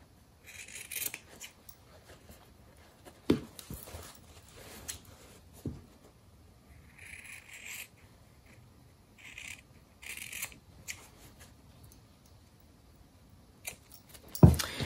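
Scissors snip and rasp through fabric in short, intermittent bursts, with soft rubbing and a few sharper clunks between quiet pauses.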